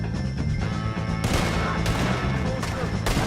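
Rapid gunfire in Red Dead Redemption 2 during a shootout with O'Driscoll gang members, dense overlapping shots and crashes filling the mix, with game voices mixed in.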